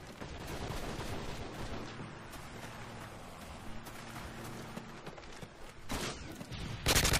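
Modern Warfare 3 gunfire rattles almost continuously through a multiplayer match, with dense rapid shots over a rumbling background and louder bursts near the end.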